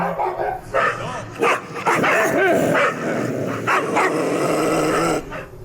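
Several dogs bark and yelp in an agitated burst, with growls mixed in, fairly close and loud throughout.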